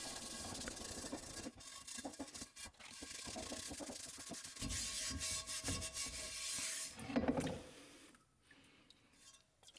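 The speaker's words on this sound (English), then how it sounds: "grab some coarse steel wool and scrub it until all the rust is gone and the metal looks gray" Coarse steel wool scrubs surface rust off an antique, badly pitted cast iron pan, a continuous close rasping rub with brief pauses and a rougher burst near the end before it fades.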